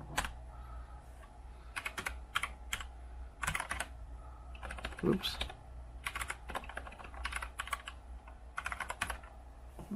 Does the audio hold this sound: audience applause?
no